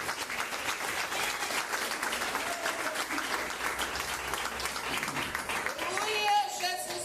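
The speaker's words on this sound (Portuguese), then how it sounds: "E os adoradores podem adorar Jesus com as palmas." A church congregation claps continuously in worship, a dense, even patter of hands heard at a moderate distance, with faint voices over it toward the end.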